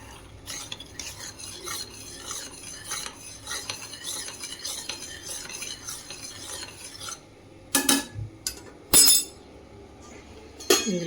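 A spoon stirs custard powder into cooled milk in a bowl, with a continuous scraping swirl for several seconds, then a few sharper clinks of metal against the dish, close and clear.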